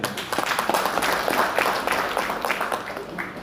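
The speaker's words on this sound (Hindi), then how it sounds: "जोरदार ताली एक बार आप लोग।" An audience in a meeting room of a business planning session gives loud applause, a dense continuous patter of many hands clapping for a few seconds with some voices underneath.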